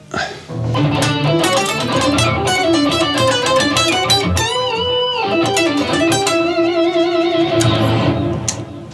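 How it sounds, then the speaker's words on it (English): Electric guitar notes through a pitch shifter with a doubled tone an octave lower beneath them, played in a loud, effected phrase with sliding pitches. "the pitch shifter is generating a note which is an octave lower"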